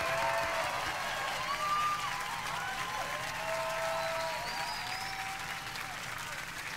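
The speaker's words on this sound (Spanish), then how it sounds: "El aplauso para mis vástagos." Crowd applause and cheering for a performer's children performing, a steady roar under sustained music with voices mixed in.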